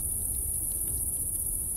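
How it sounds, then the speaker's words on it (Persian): Steady insect-like buzzing drone with a constant high whine, running alone and fairly loud for the whole stretch as an effect in a narrated story. "صدای وزوز بلندتر شد."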